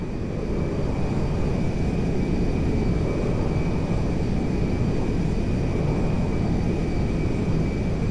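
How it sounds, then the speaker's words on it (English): Steady broadband roar of a jet aircraft coming in to land at an airfield in GTA 5, a constant loud engine rumble with a thin high whine running throughout, no voices. "There has been a change of personnel and destination on the Meriwether jet. We are now landing in Mackenzie Field."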